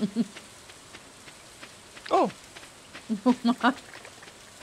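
Rain patters steadily in the Stardew Valley video game as a soft, continuous hiss in the background, while a person speaks a few short words over it.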